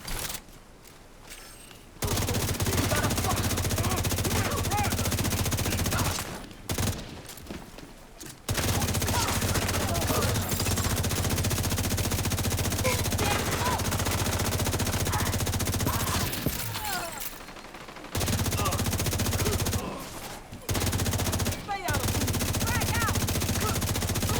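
Light machine gun fire from the video game The Division 2 comes in long, dense sustained bursts. Several short pauses break up the bursts, and the gunfire is loud and close.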